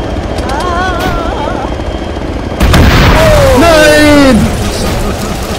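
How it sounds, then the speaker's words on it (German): A loud blast bursts out midway over a constant helicopter-like drone, with a voice talking and sweeping electronic tones throughout the Escape Porto game scene. "Hier explodieren Sachen."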